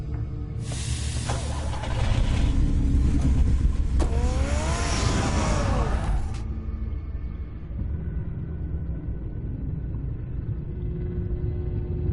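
Car engine revving and driving in a Batman video game, a steady loud rumble with a hissing burst of acceleration and a rising whine in the middle, settling back to a low idle drone.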